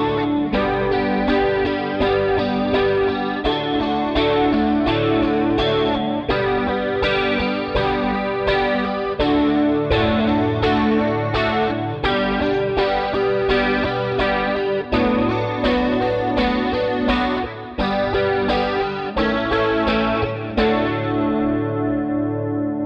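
A guitar strums chords steadily through a full, continuous passage, changing chord every few strums before ringing out at the end.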